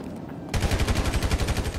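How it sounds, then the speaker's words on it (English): Automatic gunfire in the GTA video game starts abruptly after a half-second lull and rattles on in a fast, even, loud burst of rapid shots. "there's some other random dude shooting"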